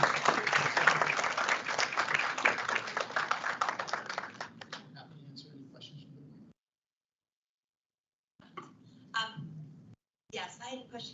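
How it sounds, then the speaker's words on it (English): Audience applause at a New Jersey State Board of Education meeting, a dense round of clapping that thins out into scattered claps, then silence, followed by a few isolated sounds and a voice beginning to speak. "Let's give one more round of applause to all of those in the audience."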